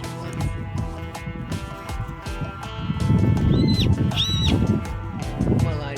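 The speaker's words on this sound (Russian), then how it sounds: "Лошадки из местного конного клуба гармонично вписываются в окружающий пейзаж" Horses from a local riding club at the foot of a white rock, neighing and whinnying in a couple of short calls over a busy outdoor background, with people's voices nearby.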